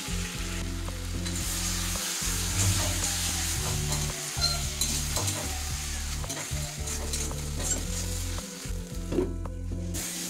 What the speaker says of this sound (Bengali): এই সময় আমি আলুটা, ভেজে রাখা আলুটা একটু মশলার সাথে ভেজে নেব।